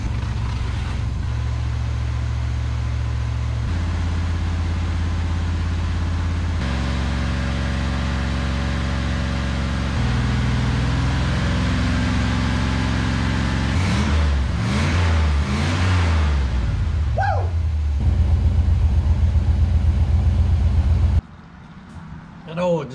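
The engine of a 1976 GMC Sierra truck, treated with Seafoam in the gasoline, idles and then revs up and down repeatedly. It rumbles loud and close, stepping through changes in pitch, and someone talks over parts of it.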